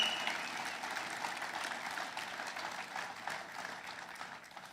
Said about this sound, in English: while you're still clapping